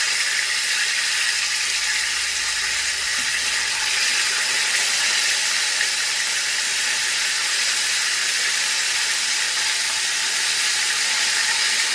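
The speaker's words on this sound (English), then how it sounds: "now that we've got that initial sizzle on" Chicken sizzles during the first fry in hot oil, a steady, dense hiss that holds close and unbroken, with no voices over it.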